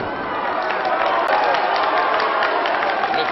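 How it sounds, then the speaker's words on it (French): Crowd at a televised wrestling bout applauding steadily, a dense, sustained wash of clapping and cheering that stays loud and even throughout, with faint voices mixed in. "Le public applaudit, il applaudit la revanche de celui qui jusqu'ici avait paru le plus faible"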